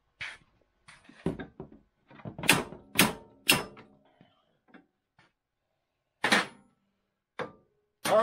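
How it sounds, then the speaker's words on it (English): A hammer drives a punch against a seized suspension bushing in a radius rod sleeve on a 1983 Indy 600 front suspension, giving about eight sharp, loud metallic strikes spaced irregularly with quiet gaps between them. "let me get a punch and see if I can knock that out."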